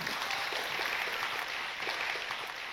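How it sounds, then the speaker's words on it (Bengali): A studio audience at a Bangladeshi television show claps together in a dense, steady round of applause that fills the whole stretch at an even level. "একটি করতালি হয়ে যাক"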